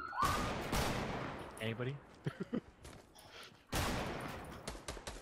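Bursts of video game gunfire from a multiplayer shooter, loud and close with a heavy volley near the start and another near the end, scattered single shots between, while players talk over it.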